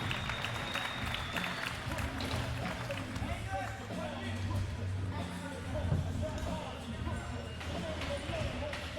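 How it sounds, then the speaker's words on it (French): Crowd applauding a rider at an amateur scooter competition final, clapping and cheering mixed with a busy outdoor event din, a loud announcer voice and background music. "Yes, applaudissements pour Anatole One."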